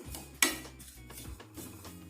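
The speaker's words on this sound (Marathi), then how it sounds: "सतत हलवत राहायचं आहे म्हणजे करपणार नाही" Roasting semolina stirred in a pan, giving a sharp scrape and knock of the spoon on the metal followed by softer, irregular scraping strokes, fairly close with no voices.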